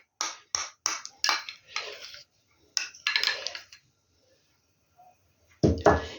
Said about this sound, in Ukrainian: І це гарнесенько все перемішаю зараз.